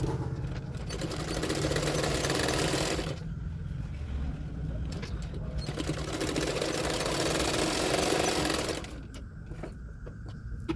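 A sewing machine runs in long bursts while stitching a katori blouse, its rapid even clatter stopping briefly between runs, close and clear.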